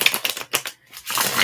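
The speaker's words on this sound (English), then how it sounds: "while I shuffle the cards" A deck of cards being shuffled up close in a quiet room, with rapid papery riffling bursts split by a short pause and no talking.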